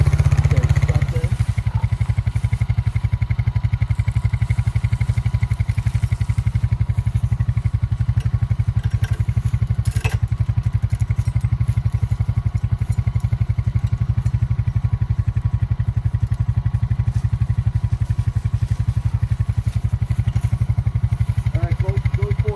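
A tractor engine idling steadily and close by on a farm during fence repair, a continuous low rumble with faint clatter throughout and no speech.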